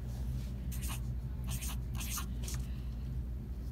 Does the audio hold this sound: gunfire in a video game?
no